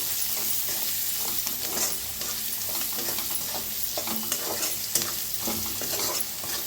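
Coriander powder and red chilli powder roasting in a pan, a steady dry sizzle with scraping stir strokes repeating throughout, close and fairly loud, no voices.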